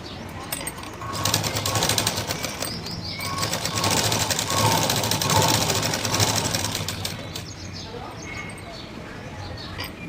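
A sewing machine stitching around a blouse, its rapid mechanical needle clatter running steadily and loudly for several seconds before slowing and fading toward the end.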